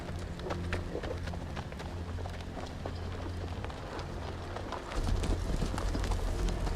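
Horses ridden at a steady pace in the Telltale Game of Thrones video game, their hoofbeats clip-clopping continuously over a dense, rain-like patter that swells louder near the end.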